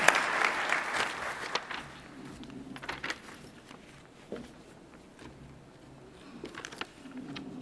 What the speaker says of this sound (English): So if we just give everyone a round of applause,